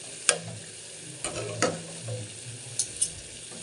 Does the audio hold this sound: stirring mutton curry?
yes